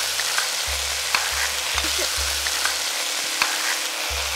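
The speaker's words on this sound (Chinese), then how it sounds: "接下来呢，倒入我们的西红柿。" Tomatoes tipped into a hot wok with cabbage, pickled ginger, carrot and chili paste sizzle and fry steadily, with the low scrape of a spatula stirring at intervals close by.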